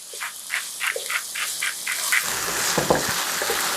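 Goulash meat sizzles steadily in a pot while a spoon stirs it, giving a close, continuous frying hiss with rhythmic scraping strokes in the first half.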